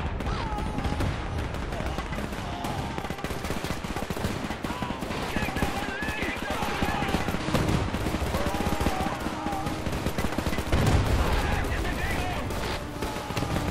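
Battle noise from the strategy game Men of War II: rapid bursts of machine-gun and rifle fire with scattered blasts, continuous and dense throughout, with a voice talking over it at times.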